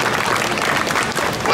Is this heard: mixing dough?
no